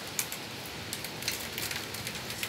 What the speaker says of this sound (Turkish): Hah, doluya başladı bakın arkadaşlar. Çat çat iniyor.